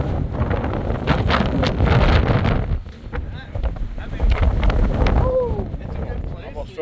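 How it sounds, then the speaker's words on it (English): Strong gusts batter the microphone at a mountain lookout around 5,000 feet, a loud roaring buffet that surges and dips, with voices talking beneath it. "It's pretty windy up here."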